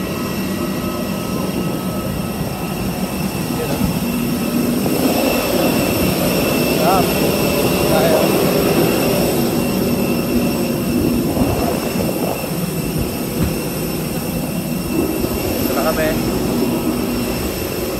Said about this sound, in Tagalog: Dito na kami ngayon sa loob ng eroplano.